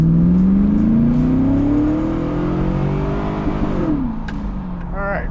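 A 2002 Camaro convertible with automatic transmission pulls from a rolling stop, its engine climbing steadily in pitch to the rev limiter before an automatic upshift drops the revs and the drone climbs again.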